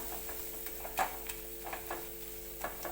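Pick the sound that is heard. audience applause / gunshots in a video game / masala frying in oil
masala frying in oil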